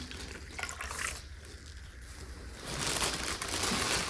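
Water is poured into a bowl while measuring the volume for a ceramics plaster hump mold: a soft trickle that swells into a louder, steady splashing stream toward the end, with no talk.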